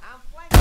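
A sudden loud explosion bursts in at the end of a short stretch of tonal sound in the Vietnam-set VR game Punji, a single broadband blast.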